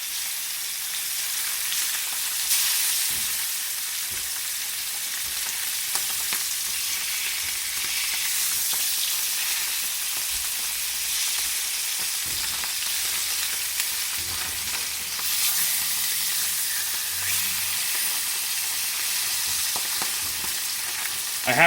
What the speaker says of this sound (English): I have my flame on high now because I'm searing the skin